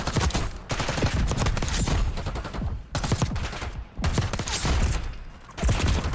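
Gunfire in the video game Black Ops 6: loud, close bursts of rapid automatic shots in long strings, broken by brief pauses between volleys.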